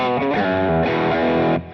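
Electric guitar played through an AC30-style amp profile with distortion and modulation effects, a quick run of bright, crunchy chords and notes ringing out loudly before cutting off near the end.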